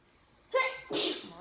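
A person sneezes twice in quick succession, close and fairly loud, the second sneeze stronger, in a quiet room.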